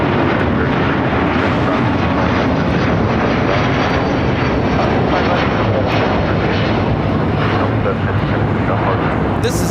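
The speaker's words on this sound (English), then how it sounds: "This is Delta Airlines Flight 7 taking off to Tokyo Haneda on the A330neo." A Delta Airlines Airbus A330neo takes off from LAX bound for Tokyo Haneda, its engines producing a loud, continuous, rumbling roar that holds steady throughout, with voices faintly mixed beneath.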